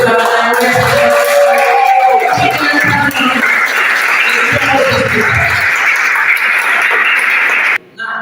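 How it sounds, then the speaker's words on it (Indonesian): An audience at a school student council debate applauds loudly and steadily in a hall, with voices mixed into the clapping before it cuts off abruptly near the end. "Oke, beri tepuk tangan saya."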